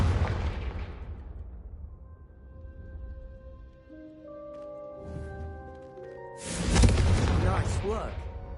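Confringo spell blasts in Hogwarts Legacy, a loud booming burst fading out, then sustained magical tones, and a second sharp explosive blast near the end, with voices speaking over parts of it.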